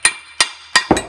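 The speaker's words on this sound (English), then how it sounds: "get a hammer here and just tap the" A hammer raps on the ball joint of a Corvette C5 hub: four sharp metallic taps, close and loud, the last two coming quickly together.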